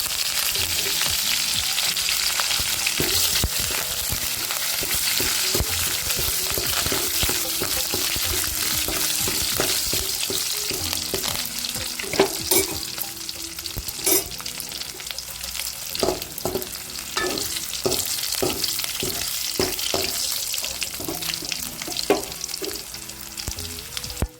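Onion, chilli and curry leaves fry in a pan for kollu paruppu, giving a loud, close, continuous sizzle, with repeated spatula scrapes and knocks growing more frequent in the second half.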